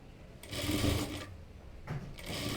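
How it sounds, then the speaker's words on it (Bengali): A sewing machine stitches a five-year-old child's fatua, running in two close, steady bursts of rapid needle chatter with a brief pause between them and no voices. "এভাবে সম্পূর্ণটাতে আগে একটি সেলাই দিয়ে লাগিয়ে নিচ্ছি, তারপরে আরেকটি চাপ সেলাই দিয়ে লাগিয়ে দিতে হবে"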